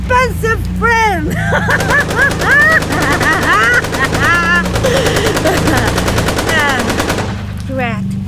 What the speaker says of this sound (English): That Tommy gun you have in your glove compartment. Is loaded with silver-plated bullets, baby!